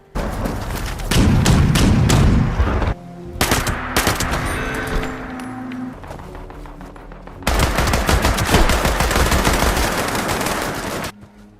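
Automatic weapon fire in Fallout 76, loud bursts of rapid shots in several runs with short pauses between them and scattered single shots, no talking.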